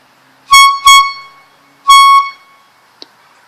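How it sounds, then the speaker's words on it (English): A handheld air horn blares close and loud: two short blasts in quick succession, then a longer held blast, followed by a small click. "Air horn time."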